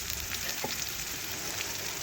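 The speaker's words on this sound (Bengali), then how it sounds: "এখন এর মধ্যে দিয়ে দেব কেটে রাখা আলু।" Sliced potatoes go into oil with reddish-fried onions, giving a soft, steady frying hiss with faint scraping, fairly quiet and without voices.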